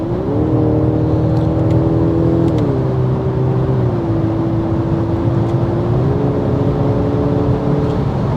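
A 2024 Mercedes-Benz E300e (W214 E-Class) pulls hard at full throttle on the Autobahn, its engine droning steadily with a rising then settling pitch over heavy road and wind roar, close inside the cabin.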